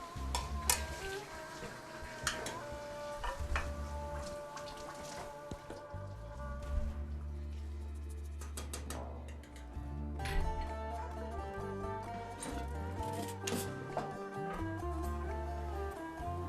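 Chopped tomatoes drop into a pan of frying börek filling, setting off a steady crackling sizzle with scattered pops and spoon stirring, close and fairly quiet, with no voice over it.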